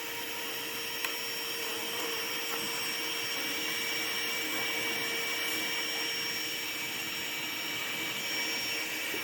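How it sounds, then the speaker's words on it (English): A vacuum cleaner with weak suction whines continuously at a steady pitch, loud and close, during a bee removal from a column, with a brief tap near the start and no talking. "See if something has my vacuum cleaner. It ain't sucking."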